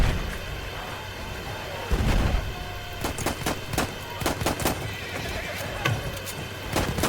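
Horses whinny loudly in Battlefield 1 during a large battle at Fao Fortress, with hooves clip-clopping and sharp bursts of rifle and machine-gun fire cracking around them.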